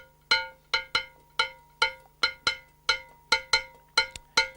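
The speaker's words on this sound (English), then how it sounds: "the rhythmic design of the bell sounds like this" A hand-struck bell plays the Yoruba bembe feast rhythm, with about fourteen sharp, ringing metallic strikes in a lilting six-count pattern. Each hit is bright and close, with a short decay.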